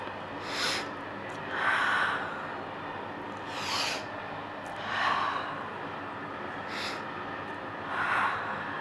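Someone breathes audibly in and out during a beginner Pilates exercise: about six soft, breathy bursts at a fairly steady, unhurried pace, close and moderately quiet, with no talking.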